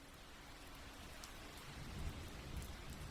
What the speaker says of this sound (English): maybe your micro habit today is just listening to one more minute of this rain